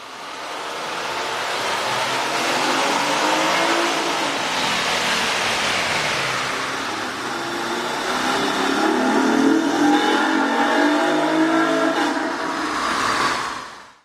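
A 2013–2014 Honda Accord 3.5L engine fitted with a K&N cold air intake revs up in a long rising sweep, holds, then climbs again before cutting off abruptly; loud and close, with no talk.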